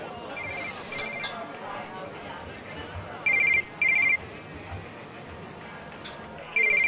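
A phone rings in short electronic bursts, two close together and another a few seconds later, over quiet background chatter and light clinks.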